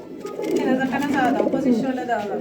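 Pair of Danish pigeons cooing close by, soft throaty warbling calls repeating through the moment while someone talks over them.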